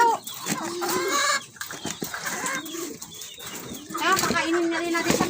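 A hen clucks repeatedly while guarding pigeon feed at close range, its short bursts mixed with other fowl calls and people talking nearby in the background.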